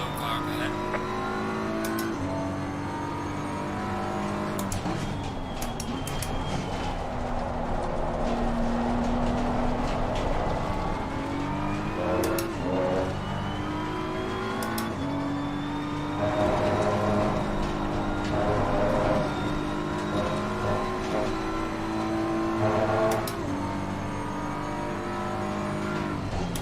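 Race car engines roar steadily in a racing video game, holding a continuous loud drone as the pitch rises and falls through gear changes and the engines pass one another.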